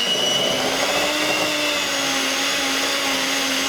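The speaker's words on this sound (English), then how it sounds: "You can see how it's creaming away just with the mixer." Electric hand mixer whirring steadily at high speed through chocolate cake batter, a continuous close motor whine with a droning pitch and no voices throughout.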